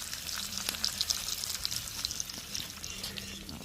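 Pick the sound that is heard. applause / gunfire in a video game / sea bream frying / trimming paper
sea bream frying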